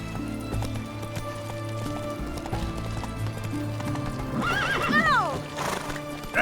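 A horse in The Witcher 3 Wild Hunt gallops with steady clip-clop hoofbeats over background game music, then gives a loud, clear neigh near the end.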